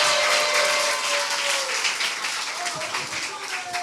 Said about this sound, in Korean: 우리 자막팀에게 박수 한번 주십시오